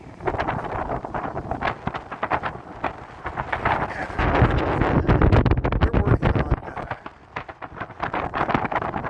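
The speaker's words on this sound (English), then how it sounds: "Wind, I'm going to lose my hat." Strong wind buffets the microphone on a Chicago street near Union Station, a loud continuous roaring rumble with gusts swelling midway and city noise underneath.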